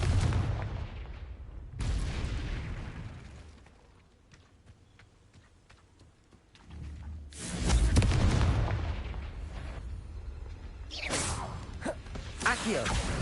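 Fiery blasts and booms from the Confringo spell in the Hogwarts Legacy video game, several loud bursts separated by a quieter stretch, with game effects and a voice over them.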